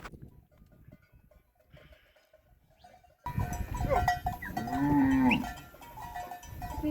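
Cattle lowing loudly and close by, several drawn-out moos rising over a busy farmyard background after a quiet opening, from a small herd of about ten to eleven cattle gathered for blood sampling.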